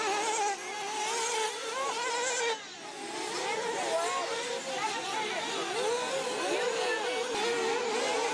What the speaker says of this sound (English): His engine sounds a little rich yet on that pass by the pits.